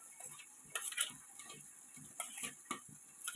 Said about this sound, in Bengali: একটা চামচের সাহায্যে চিংড়ি মাছগুলোকে নুন হলুদ মাখিয়ে নিচ্ছি।